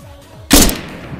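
A single loud, sharp gunshot blast in a shooter video game, with a short decaying tail over a low background drone.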